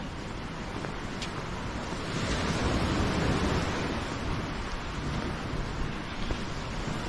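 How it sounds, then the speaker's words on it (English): Continuous low rumble of ocean waves washing in on a beach in Spain, with wind noise on the microphone and a brief swell in the middle; no one speaks. "The sound of the waves, not a care in the world."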